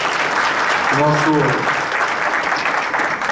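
An audience at a Brasília environmental licensing session breaks into loud, sustained applause that fills the whole moment, with a voice speaking briefly over it.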